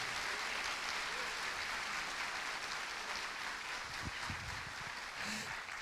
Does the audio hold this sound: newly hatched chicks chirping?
no